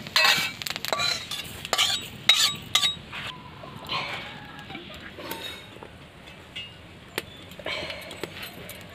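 Black cumin seeds dry-roasting in a pan without oil while being stirred, giving close, irregular scraping and metallic clinks of the utensil against the pan over a soft sizzle, with no talk.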